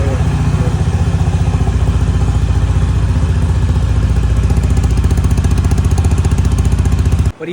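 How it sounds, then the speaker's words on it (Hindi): An early first-model Honda motorcycle, left unused for about two weeks, started up and running. It holds a steady, close, loud idle with a rapid even putter for about seven seconds, then cuts off abruptly at the end. "अब थोड़ा बाइक की ना आवाज़ सुन लेते हैं भाई"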